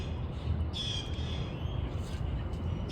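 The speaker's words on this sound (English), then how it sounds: "the birds are just distracting me" Birds call outdoors, a thin high chirping that runs faintly through a steady, noisy background, with no talking.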